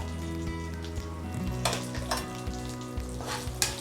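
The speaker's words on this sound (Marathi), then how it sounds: "छान मस्त क्रिस्पी असे फ्राय करायचे" Almonds and cashews fry in oil in a pan over a low flame until crisp, a steady close-up sizzle with small crackling bursts and occasional stirring scrapes throughout, no voices.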